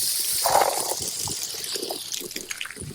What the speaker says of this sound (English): would you clean your RCs with water just like I'm doing here?